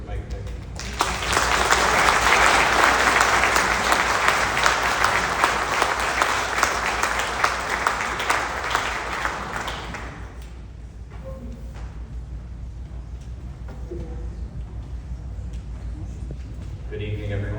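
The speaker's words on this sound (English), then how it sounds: "please welcome with a round of applause, Mr. Mike Fegelman." Loud sustained audience applause welcoming a keynote speaker at a London Yom HaShoah remembrance ceremony, filling the hall for about ten seconds before fading to quiet room noise.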